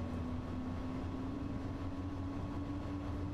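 A train driven in Train Sim World 2 on a Dresden local rush-hour service gives a steady, loud rolling drone with a constant low motor hum and no break or talk.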